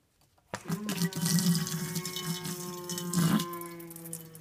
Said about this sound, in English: again turn faucet on